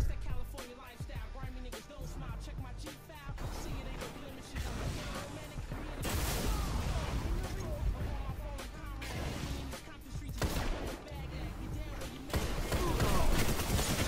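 Gunfire from the Last Word hand cannon in Destiny, a string of paced, punchy shots mixed with other weapon fire and game noise throughout, fairly quiet overall.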